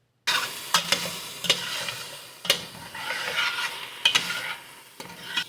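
Diced vegetables sauté in a pot over high heat, a continuous crackling sizzle broken by several sharp scrapes and clanks as the mix is stirred, fairly close.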